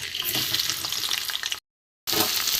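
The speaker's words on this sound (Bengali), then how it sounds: "এবার আমি আলুগুলো একটু ভেজে নেব" Potatoes frying in hot mustard oil with panch phoron, a steady broadband sizzle with stirring, loud and close, broken by a brief half-second gap of silence before the sizzle resumes.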